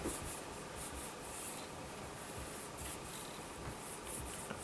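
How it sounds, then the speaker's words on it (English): Fingers rub a cardstock panel on a Bow Easy tool, a soft continuous papery swishing in a steady back-and-forth rhythm, faint and close with no talk. "Using my left hand just to hold the piece of cardstock still while I am rubbing it with the right hand"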